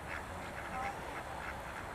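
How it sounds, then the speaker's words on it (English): Ducks quacking beside a small car park near a railway curve on the England Coast Path between Workington and Harrington, with swans nearby; soft, scattered calls sit low in a steady outdoor background, with some talking audible. "You can hear the ducks and you can see the swan."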